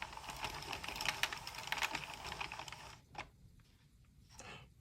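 A Sentro or Addi knitting machine is cranked through a round with no yarn, giving a dense, steady mechanical clatter of rapid clicks for about three seconds before it stops, followed by a few faint isolated clicks.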